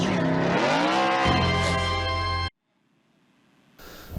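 Race cars at Millbridge Speedway during the DNQ Nationals Josh Long Memorial, a loud, close, high-revving engine roar with a sliding pitch that cuts off abruptly into near silence, then faint crowd-like noise returns.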